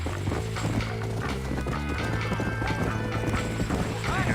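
Rapid galloping hooves drum steadily from a horse in Red Dead Redemption, a dense rhythmic clatter running throughout amid game ambience and mechanical rattles, with no speech.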